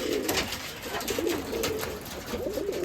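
Rajshahi Giribaz pigeons coo steadily and close by, their soft throaty calls overlapping throughout with no talking.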